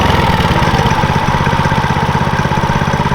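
A Coleman B200RSV full-suspension mini bike engine with a CVT runs at a loud, close, steady idle, its rapid pulsing chug unbroken and free of speech.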